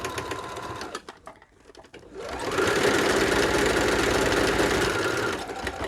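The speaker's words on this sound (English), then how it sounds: "And then we're just going to start stitching." A sewing machine stitches a fabric bowl cozy in a steady, fast whirring run after a few quieter starts and a brief pause, loud and close with no talking.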